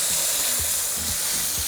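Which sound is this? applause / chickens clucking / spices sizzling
spices sizzling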